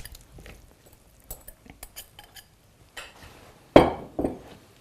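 Grated potatoes and onions tipped into a bowl of whisked eggs for Persian kookoo, with soft scattered clinks of a utensil against the bowl and a louder wet scrape or knock near the end.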